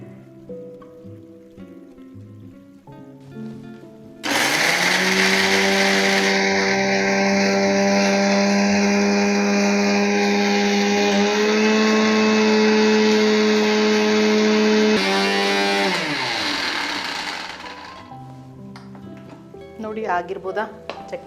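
A mixer grinder whirs loudly for about ten seconds grinding a paste without water, with a high motor whine, starting abruptly and then winding down to quieter background sounds.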